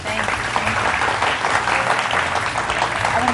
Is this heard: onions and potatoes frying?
no